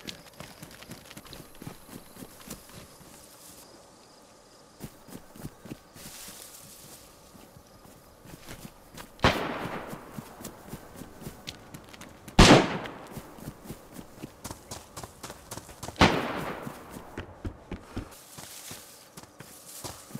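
Sharp gunshots ring out in the DayZ survival game during player-versus-player combat in Brena, with three loud cracks spaced a few seconds apart over a steady run of quick footsteps.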